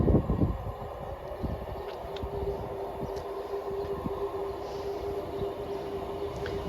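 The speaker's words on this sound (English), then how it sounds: "Arriving in now is the 1724 ScotRail service from Arbroath to Dundee." A ScotRail passenger train from Arbroath to Dundee rolls into a station with a steady low rumble, a sustained tonal hum and occasional squeaks, plus wind buffeting the microphone.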